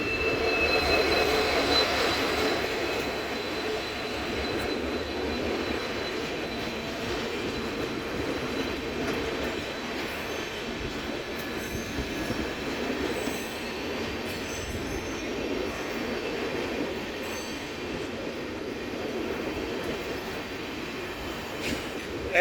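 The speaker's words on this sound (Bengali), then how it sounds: "এই যে ট্রেন, কত বড় ট্রেন, দিল্লি থেকে এলো এটা।" A long-distance train from Delhi pulls into Bilasipara railway station, its wagons rolling past with a sustained metallic wheel squeal and rumble that is loudest at first and then settles into a steady clatter.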